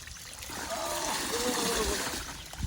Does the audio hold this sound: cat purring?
no